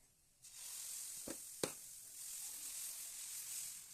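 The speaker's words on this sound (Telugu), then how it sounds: "ఇప్పుడు డైరెక్ట్ దోశ వేసుకోవాలి." Dosa batter spread on a hot griddle sizzles with a steady, soft hiss, broken by a couple of brief sharp clicks near the start.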